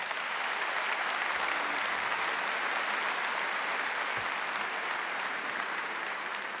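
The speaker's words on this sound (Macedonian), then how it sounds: "Поздрав до нив со еден огромен аплауз" A concert audience applauds with dense, steady clapping that fills the whole stretch at an even loudness, with no voices standing out.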